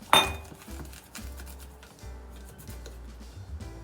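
A Joseph Joseph garlic mincer works over garlic cloves in a kitchen, starting with one sharp metallic clink, then a run of low rhythmic grinding scrapes, close and fairly quiet.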